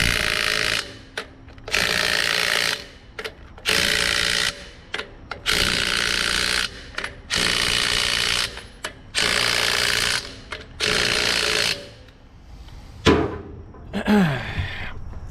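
An impact wrench tightens wheel lug nuts in a star pattern during a tire change, firing in loud, repeated bursts about a second long separated by short pauses, with faint clinking and shuffling between them.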